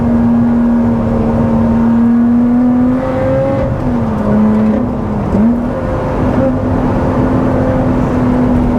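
A Lotus Exige sports car driven hard, its engine holding a strong steady drone that dips briefly as the driver shifts, then pulls again, loud and close from inside the cabin without talk.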